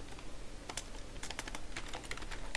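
Typing on a computer keyboard while entering C++ code: a continuous run of quick, light key taps in irregular bursts, close up with no talking.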